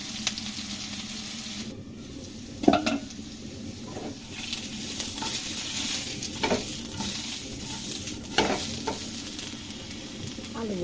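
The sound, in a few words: potatoes frying in mustard oil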